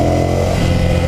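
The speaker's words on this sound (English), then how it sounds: "this bike is just fun to throttle up." Engine of a 2015 Ducati Scrambler motorcycle revving up under throttle, a loud, close, continuous rumble lasting about a second.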